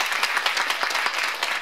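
An audience at a Korean traditional music performance event claps steadily in a dense, even burst of applause welcoming attendees, with no talk over it.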